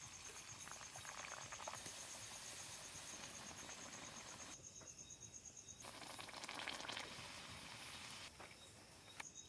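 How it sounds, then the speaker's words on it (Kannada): Puri dough of chana dal and maida wheat flour frying in hot oil, a steady close sizzle and bubbling crackle that swells and eases in patches, with no talking. "ಈಗ ಪುರಿಯನ್ನು ಬಿಡ್ತಾ ಇದ್ದೀನಿ"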